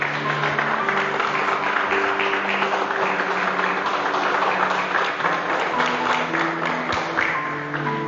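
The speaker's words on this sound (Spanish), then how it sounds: "póngase de pie, dele fuertes palmas a Jesucristo en esta noche" A church congregation clapping for Jesus Christ at an evening service, a steady dense wash of applause running throughout with musical tones and faint voices beneath.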